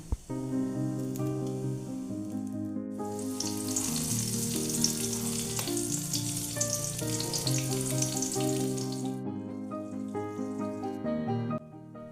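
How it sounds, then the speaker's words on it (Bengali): Whole cumin seeds and chopped green chili hit hot oil, bursting into a loud, bright sizzle that holds steady for several seconds before dying back, with a tonal hum running underneath throughout. "প্রথমে ফোড়নে দিলাম গোটা জিরে আর কাঁচা লঙ্কা কুচিয়ে দিয়ে দিলাম"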